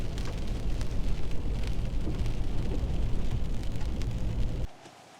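Steady rain falls on a wet evening bowhunting walk at Fort McCoy, Wisconsin, a loud, dense hiss of drops close around the listener that cuts off abruptly near the end.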